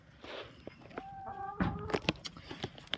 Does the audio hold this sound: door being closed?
no